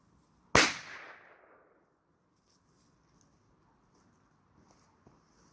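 Next to a campfire pile built for a pyrotechnics fire-lighting experiment, a firecracker bursts in one loud, sharp bang that rings out and fades over about a second, followed by quiet outdoor ambience with light shuffles.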